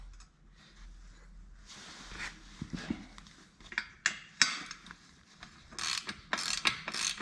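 Bolts being worked out of a John Deere 140 three-point hitch, with a run of faint metallic clicks, ratcheting and clinks as the hardware is turned and handled, close by with no talk.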